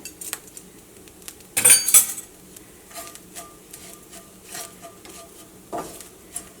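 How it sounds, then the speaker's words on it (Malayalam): A teaspoon of turmeric powder roasts in a hot pan as a utensil stirs and scrapes it, producing soft scraping and light clinks with one louder burst of clatter near the middle and quieter scrapes after. "ഈ മഞ്ഞൾപ്പൊടി അത് കിടന്നിട്ട് നന്നായിട്ട് മുരിയണം."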